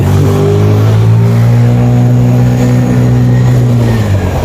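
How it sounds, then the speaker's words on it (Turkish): A 50cc motor scooter engine idles and revs steadily up close, a continuous buzzing drone that holds its pitch for several seconds with no voices. "Hiç 50 cc'miş gibi çalışmıyor. Sanki altında Vespa var ses, ses olarak ama."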